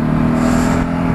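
A Ducati motorcycle with an L-twin engine idles roughly and sputters up close, a steady loud uneven drone lasting about a second.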